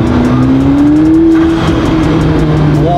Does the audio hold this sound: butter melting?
no